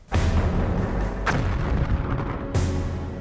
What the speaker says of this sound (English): That's our artillery trying to soften up the Germans.